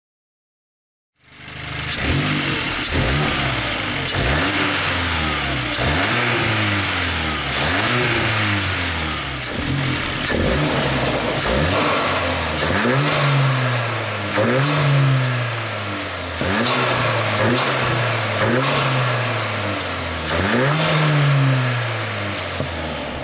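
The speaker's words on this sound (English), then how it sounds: "let it idle for a bit so it warms up, and we'll get some revving shots" After a moment of silence a Volkswagen Golf R Mk8 engine starts, settles into an idle, then revs up again and again in a steady series of throttle blips.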